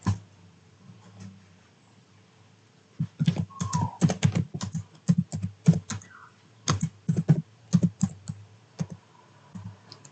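Keys clatter on a computer keyboard as a network switch command is typed, irregular close clicks and taps in quick clusters after a quiet opening, with no talking.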